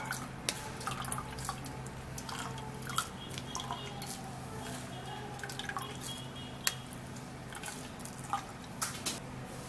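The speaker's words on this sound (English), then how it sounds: "I'm going to be putting in water so that I'll be able to sieve everything out" Water poured into fruit pulp to sieve out juice for a homemade drink, heard as close, irregular drips, splashes and wet trickling over a faint low hum, with no talking.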